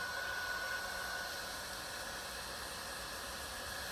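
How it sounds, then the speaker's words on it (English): A heat gun blows over a patch being melted onto a tarp, a steady broadband whooshing hiss held at constant level for several seconds, alone with no talking. "now we take our heat gun and our tire roller, and we're going to heat it up"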